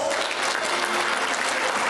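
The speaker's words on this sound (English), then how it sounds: "Once again, let's give her a round of applause." Audience applause at a Philippine Independence Day celebration, a dense, steady wash of many hands clapping throughout, loud and unbroken with no speech over it.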